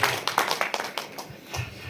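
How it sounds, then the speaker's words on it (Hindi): Audience applause at a Hindi comic poetry gathering (hasya kavi sammelan), a burst of hand claps that is dense at first and then thins into scattered claps over a couple of seconds. "जोरदार तालियां दोनों हाथों पर उठाकर बजाएं एक बार"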